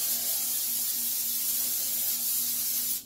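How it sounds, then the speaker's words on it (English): Non-stick cooking spray hisses onto a pan in a steady, close, continuous jet lasting about three seconds, then cuts off abruptly at the end. "non-stick spray"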